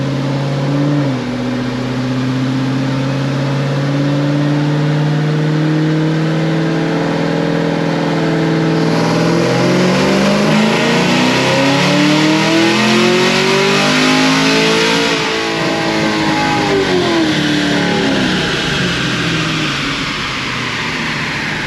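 A Whipple-supercharged sixth-generation Camaro ZL1 engine revs up and holds high, its pitch climbing and falling in a long wail with supercharger whine, loud and close with no talking.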